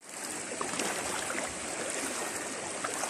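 Steady broadband rush of a clearing river flowing after a series of typhoons, continuous and fairly close with no talk over it.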